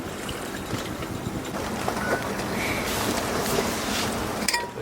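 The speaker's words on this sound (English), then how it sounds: "It's pretty windy and wild out here today." Wind buffets and roars around a sailboat outdoors in rain, gusting unevenly with rustles and creaks of rigging, ending in a brief clatter.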